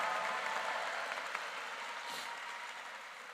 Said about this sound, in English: So I'd like us to get a big round of applause for our artist, who was Miss Alicia Luis Rodriguez.